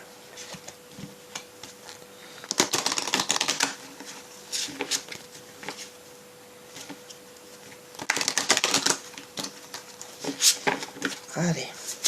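Oracle cards being shuffled during a tarot-style reading, giving two bursts of crisp riffling and slapping, around three seconds and again near eight seconds, with softer card handling in between and no talking.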